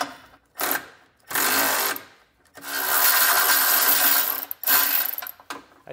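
Power tool spinning off 18 mm nuts from a bumper beam on a 2023 Jeep Wrangler, several whirring bursts of varying length separated by short pauses, close and fairly loud.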